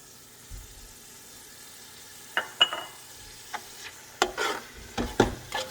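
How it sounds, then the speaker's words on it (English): Yogurt going into biryani gravy as it fries, followed by scattered stirring scrapes and soft sizzling bursts, close and moderately loud, with no voices. "So now I'm going to add the yogurt."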